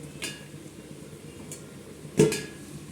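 A metal lid clanks down onto a pot of boiling potatoes with a sharp, close clatter, set against a low background simmer.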